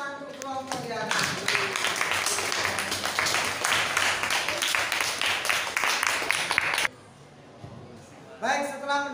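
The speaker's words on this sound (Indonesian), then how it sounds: "Kita beri tepuk tangan untuk kelompok Yohanes." Classroom applause for a student group after its presentation, a sustained burst of many hands clapping together for several seconds that cuts off abruptly, with a voice talking at the start and again at the end.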